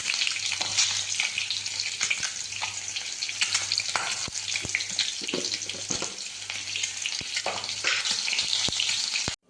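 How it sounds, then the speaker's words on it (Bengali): Eggs frying in a pan with a little salt added, a steady bright sizzle running throughout with scattered pops and occasional scrapes, close and fairly loud with no talking. "ডিমগুলো ভাজার সময় একটু নুন দিলাম"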